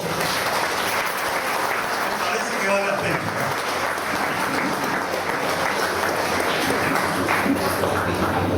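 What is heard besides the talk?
applause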